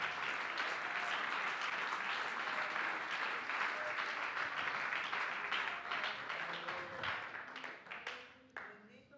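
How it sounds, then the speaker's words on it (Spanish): A church congregation applauds during a sermon, steady full clapping that rolls on for several seconds with voices mingled in, then tapers off into scattered claps. "Un aplauso al Señor"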